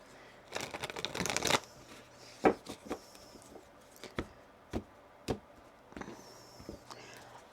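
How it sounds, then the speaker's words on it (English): Tarot cards shuffled by hand during a reading, a dense riffling burst followed by a series of sharp separate taps and slaps as cards are handled and laid down, close and fairly quiet, with no talk. "Let me shuffle this one more time."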